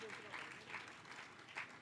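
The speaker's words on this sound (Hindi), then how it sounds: "कृपया आप सभी लोग तालियां बजाते रहें, सभी हमारे अतिथियों का अभिनंदन करें।" An audience at a Vedic conference in a Hanuman temple in Lucknow applauds the guests with dense, sustained clapping. The clapping swells in a few waves and runs under a voice heard in the background.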